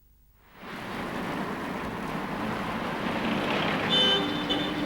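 Steady roadway traffic noise swells in after a near-silent half second and holds as a dense, continuous wash of passing cars, with a brief higher tone near the end; no one speaks.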